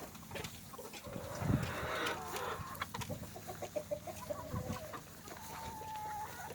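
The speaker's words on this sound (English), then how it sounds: "So this is about 100 chickens." About 100 chickens cluck and murmur together in a busy, continuous chorus, with occasional louder squawks rising above the nearby flock.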